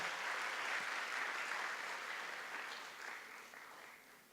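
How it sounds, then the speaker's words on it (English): Audience at a TEDx event applauds the organizing committee, a steady dense wash of clapping from a large room that tapers off gradually, with no talking over it. "let's give the organizing committee a round of applause"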